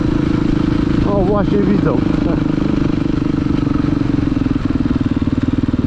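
Honda Fireblade 900 cc motorcycle engine running steadily and loud throughout, a constant rumbling drone with a brief revving swell, while people talk over it.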